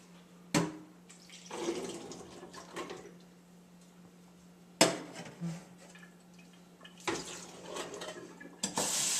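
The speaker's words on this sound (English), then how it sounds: "And then we're going to rinse our beans." Garbanzo beans (chickpeas) being rinsed under a running kitchen tap, with bursts of splashing water and clattering in a sink, separated by quieter gaps, fairly close and alone.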